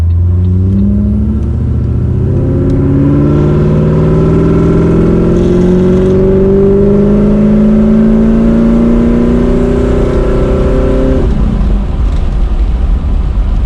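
A boosted Pontiac G8 accelerates hard along a road, its engine loud and close from inside the car, rising steadily in pitch for about eleven seconds before easing off into a lower drone.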